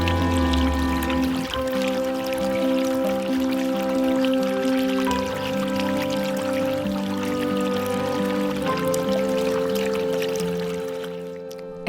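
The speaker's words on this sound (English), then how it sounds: "I installed our millstone again, which we turned into a water ornament, and enjoyed its calming sounds and the sunshine." Water from a millstone turned into a water ornament trickles steadily in a sunny garden, a soft continuous flow heard close and alone.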